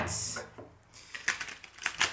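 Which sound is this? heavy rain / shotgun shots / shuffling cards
shuffling cards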